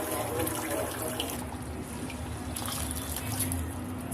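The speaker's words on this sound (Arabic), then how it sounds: "هديها شويه ميه" Water poured into thick simmering tomato sauce for Egyptian koshari; a soft, continuous trickling and bubbling close by under a steady kitchen hum, with someone speaking over it.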